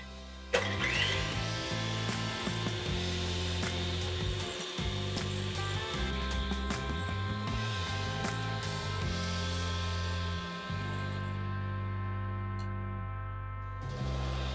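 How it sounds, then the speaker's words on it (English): Egg whites whipped alone with an electric mixer toward medium peaks for a chocolate souffle, a steady loud motor whir with shifting pitch as the beaters work the bowl, running throughout with no talk. "So I'm going to start by whipping my egg whites all by themselves until I get close to medium peaks."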